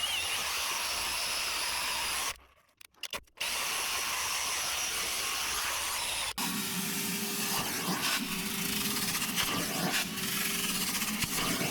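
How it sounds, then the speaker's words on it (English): A Ridgid portable shop vacuum fitted with a carpet extractor kit roars loudly as it sucks moisture from a car seat's fabric, cutting out briefly, then resuming with a changed, gurgling suction tone. "I've got the extractor kit hooked up to a rigid portable shop vacuum, which has more than enough suction to pull moisture out of the fabric quickly"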